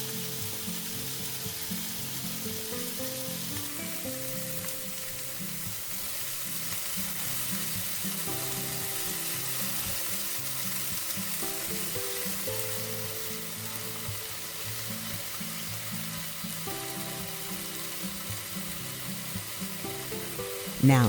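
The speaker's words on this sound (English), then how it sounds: "Sear the chicken over medium-high heat until golden brown on both sides" Chicken sears in a hot pan over medium-high heat, a steady, dense sizzle that runs evenly throughout, with tonal background music layered beneath it.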